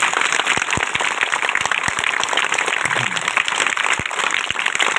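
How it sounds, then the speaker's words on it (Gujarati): An audience at a primary school quiz competition applauds loudly, many hands clapping in a continuous dense wash with a few sharp individual claps standing out. "હજુ એક વખત જોરદાર તાળીઓ."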